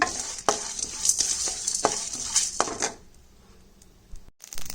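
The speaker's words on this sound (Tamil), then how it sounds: "இப்போ ஜீரகமும் நல்லா பொரிஞ்சு மிளகும் நல்லா ஃப்ரை ஆகிடுச்சு" Cumin seeds and black peppercorns dry-roasted in a pan over low heat, a bright crackling sizzle with quick stirring scrapes that fades to near quiet before a last burst of stirring.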